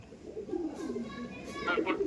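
Pigeons in a loft cooing softly, a low warbling coo rising near the end, with quiet background noise and faint voices.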